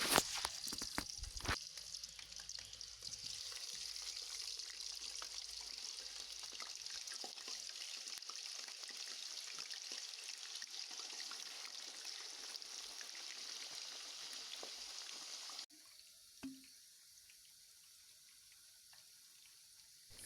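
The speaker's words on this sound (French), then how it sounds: "j'ai mis un peu de sel et maintenant je commence la friture." A steady hissing sizzle of potato slices frying in hot oil runs loud and close for most of the clip, then drops off abruptly to near quiet.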